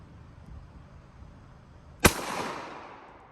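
A single sharp, loud .45 ACP pistol shot from a U.S. Army M1911A1 cracks after a quiet pause, then rings out in a tail that fades over about a second.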